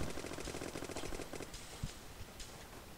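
An acid gun firing in the stickman shooter game Boring Man, a rapid run of repeated shots for about a second and a half, then quieter scattered game sounds, fairly faint with no voices.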